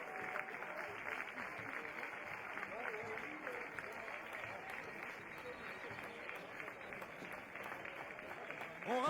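Crowd applauding youth football teams at a parade, a faint, distant, steady wash of clapping that runs throughout.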